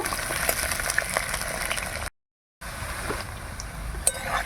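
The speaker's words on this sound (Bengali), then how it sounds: "এবার আলু আলুগুলো ভালো করে ভেজে নেব" Potatoes frying in a pan with a bay leaf in the oil, a steady close sizzle and crackle running throughout, broken by a brief silent gap midway.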